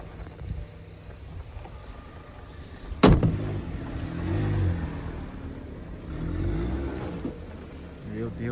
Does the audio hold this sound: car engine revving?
yes